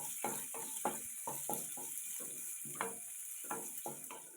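Three garlic cloves fry in a pan for coconut chutney, a steady close sizzle broken by repeated rhythmic scrapes and taps of a spoon stirring against the pan.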